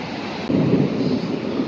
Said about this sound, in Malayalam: മഴ, മിന്നല്, ഇടി, സകലമാന കാര്യങ്ങളും പൂർത്തിയായിട്ടുണ്ട്.